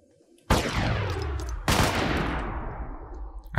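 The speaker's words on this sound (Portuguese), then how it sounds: "Sabendo onde ela estava, eu comecei a atirar de volta." Gunfire in the Fortnite battle royale game: two loud rapid bursts of automatic fire, each with a sharp onset and a long booming decay, the second following about a second after the first.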